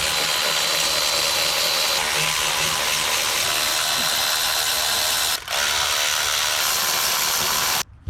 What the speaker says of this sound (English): So now I'm going to remove the bolts for the intake manifold.